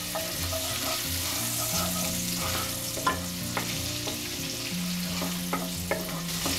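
Finely chopped ginger and garlic sizzle in hot oil as a utensil stirs them, with steady frying crackle and a few sharp clinks of the spoon against the pan.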